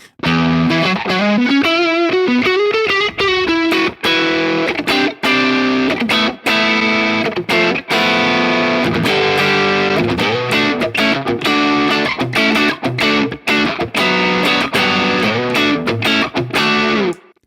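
Electric guitar through a Tone City distortion pedal set to its darker, cleaner jazz mode, playing a continuous loud run of chords and single notes with a chewy, bouncy drive.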